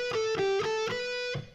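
Distorted electric guitar picks a quick run of notes on the third string, fast repeated attacks with a steady bright harmonic-rich tone that fade out at the end.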